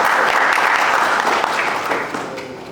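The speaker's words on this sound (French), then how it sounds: "Je voudrais que vous applaudissiez." Loud, close audience applause at an official ceremony in Senegal presenting a FIMI report, a dense burst of many hands clapping that holds steady before easing slightly toward the end.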